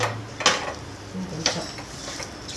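A ladle scrapes and stirs thick rice-flour kozhukattai dough in a nonstick pan, with two or three distinct scraping strokes over a steady background hiss, no talk.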